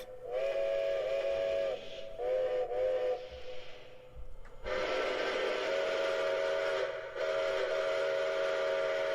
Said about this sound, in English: watch it go through all the whistles